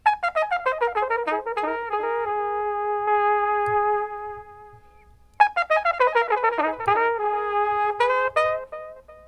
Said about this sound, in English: how much of the original audio is playing and how much of the delay is playing